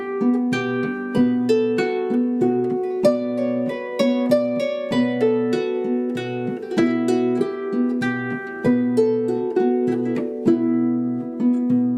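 A folk tune plays over a steady B drone, the melody moving in a bouncy, even rhythm with plucked or bowed attacks above a constant low hum, close and clear with no voices.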